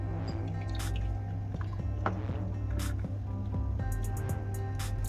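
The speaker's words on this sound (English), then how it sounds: "And we're going to transfer it into a beaker." Hot, thick rasmalai milk mixture is poured from a pan into a beaker, giving soft wet drips and squishy splats in short bursts over a steady musical background.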